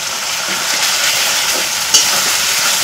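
Turmeric and chili powder with whole spices fried and stirred in a pan for a chicken dish, a loud continuous sizzle close up with a sharp clack of the spoon near the end, no talking.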